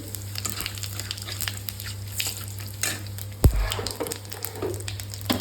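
Whole cumin seeds and a bay leaf sizzle in hot oil in a wok: a steady, close crackling hiss throughout, with a single sharp utensil knock partway through.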